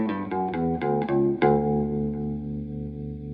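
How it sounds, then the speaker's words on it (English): Fender/Squier Bass VI played through the neck pickup with the strangle switch engaged, a short melodic line of several plucked notes with a trimmed low end, the last note ringing out and sustaining alone, with a chorus-like effect. "Now if I play that same line with the neck pickup but with the strangle switch"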